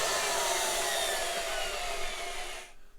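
A power saw cuts through 40mm steel roll cage tubing with a loud, continuous high-pitched grinding screech that holds steady and then stops abruptly near the end.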